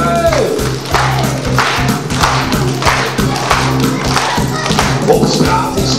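Rhythmic clapping keeps time with a children's traffic-safety song, a steady beat of claps mixed with bouncy music, loud and close throughout.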